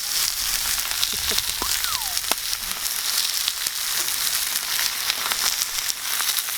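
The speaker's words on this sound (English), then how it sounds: "You're going to cook some steak." Steady, loud sizzling and spitting of steak frying in a hot pan outdoors, with occasional sharp pops and a faint squeak.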